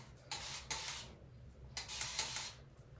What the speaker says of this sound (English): So I'm just spray my hair.